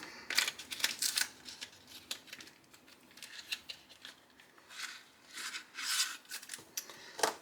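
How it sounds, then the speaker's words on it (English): A cardboard box of colouring supplies being opened by hand, a close series of tearing, scraping and rustling bursts with short pauses. "If I can get the box open without cutting myself."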